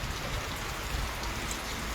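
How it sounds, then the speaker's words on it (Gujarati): Heavy rain pours down steadily in the Halvad area of Gujarat, a dense, even wash of drops on surfaces with no voices. "આજે સવારે પાંચ વાગ્યાથી ફૂલ વરસાદ વરસી રહ્યો છે"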